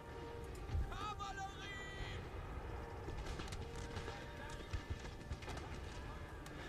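Cavalry horses gallop in the Napoleon Total War battle game, a dense drumming of hooves with occasional whinnies under a continuous busy battlefield din.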